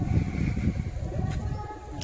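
A pet pigeon coos in low, soft, continuous murmurs close by, with faint bird chirps and background noise.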